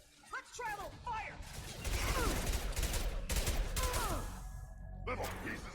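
Firefight in the video game Mass Effect 2, with dense bursts of gunfire and impacts running almost nonstop, loud and close, while voices shout over the shooting.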